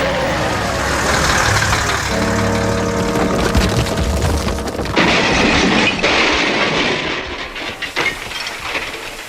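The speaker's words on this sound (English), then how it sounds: ""That lorry's in trouble," thought Toby." A rock-laden quarry lorry struggling on a rough, steep road makes a loud, continuous mechanical rumble with a strained engine drone, clattering, and rattling that fades slightly near the end.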